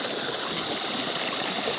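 Water of the Laya River at Candulawan, Talisay City, Cebu, running as a steady, dense rush and gurgle close by, broadband and even throughout with no voices over it.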